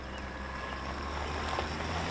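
A 2021 Chevy Tahoe High Country's Duramax diesel engine grumbles steadily in the background, a low, even cabin drone with no talking.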